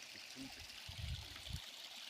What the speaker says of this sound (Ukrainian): Підійшли до такого водоспада.